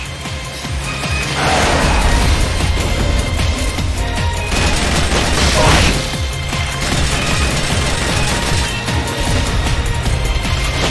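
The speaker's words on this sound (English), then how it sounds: "Supplies are loaded in the transport catapult. Fire away." A supply transport catapult fires in the video game Metal Gear Solid Peace Walker, with loud, dense bursts of booming, crashing noise that swell twice and keep rumbling throughout.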